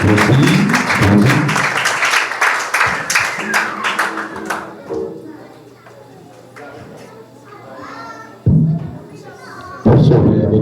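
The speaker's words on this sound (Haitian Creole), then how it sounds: "Il faut nous lever. Applaudis." Church congregation clapping in rhythm with singing voices, loud and close at first, then fading to scattered claps and voices before bursts of clapping return near the end.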